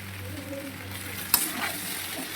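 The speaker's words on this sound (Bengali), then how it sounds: "চাউমিনটাকে আমরা ভালো করে একদম নেড়ে নেব" A spatula stirs boiled chow mein with sauce in a wok, giving a soft sizzle and scraping sound with one sharp clack of the utensil midway, close and fairly quiet.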